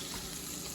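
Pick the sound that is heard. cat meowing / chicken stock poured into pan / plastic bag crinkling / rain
chicken stock poured into pan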